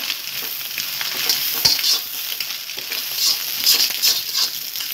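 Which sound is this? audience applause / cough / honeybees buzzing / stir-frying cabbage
stir-frying cabbage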